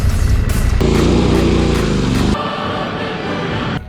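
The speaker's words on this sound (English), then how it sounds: "And listen to Santiago's brakes." Adventure motorcycle's rear brakes on a ride in Tasmania, heard inside a loud, steady engine and road roar that drops slightly partway through, with no separate brake squeal standing out clearly.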